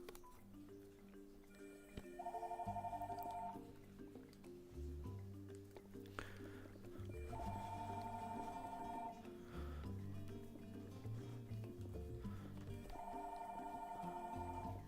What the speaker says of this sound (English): I don't know what the phone's ringing.